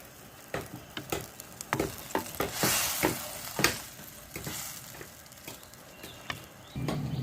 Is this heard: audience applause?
no